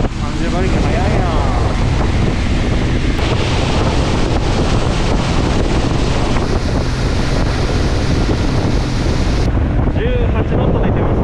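A 19 ft Japanese wooden-style boat with a 30 hp outboard motor runs at speed on a calm stretch of the Ariake Sea. Loud, constant wind buffeting and rushing water roar throughout, with faint voices beneath.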